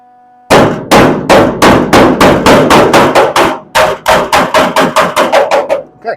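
A hammer tapping the steel trunk floor panel of a 1970 Dodge Challenger, about twenty loud ringing metallic strikes in a fast, steady rhythm, close up and with no talk.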